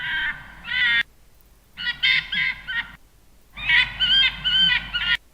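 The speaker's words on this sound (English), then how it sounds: "Sounds like a seagull rather than a fox." A harsh, squawking animal cry from Battlefield 4, gull-like, calls in three separate bursts of raspy, rapidly repeated caws with short silent gaps between them, fairly close and alone.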